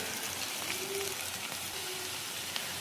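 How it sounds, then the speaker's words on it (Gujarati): Spice masala sizzling in a pan on a clay stove over cooking fenugreek greens, a steady, continuous frying hiss at moderate level with no talk. "જો મસાલો પાકે છે મિત્રો"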